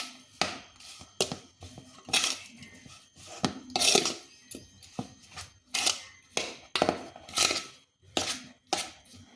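A spoon clinks and scrapes against a bowl while a chili spice mixture is stirred, giving a steady run of sharp, close taps and scrapes in an irregular rhythm.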